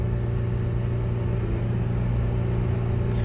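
A 2012 Ford Focus engine holds a steady, loud rumbling rev throughout, with brake and throttle pressed together during transmission adaptive learning; a continuous low drone with no talk.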